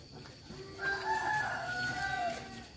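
A village free-range rooster crows once, a long drawn-out call rising and falling, heard at a moderate distance over quiet outdoor background.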